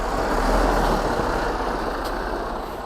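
Steady low rumble of a FedEx delivery truck's engine as it slowly backs up through snow after a snowstorm, running continuously and fairly loud with no talk over it.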